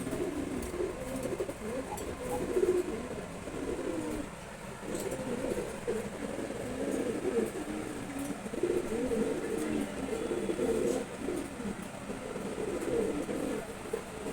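Pigeons in and around a cage coo softly and repeatedly, their low burbling calls rising and falling, with faint background noise and a murmuring voice.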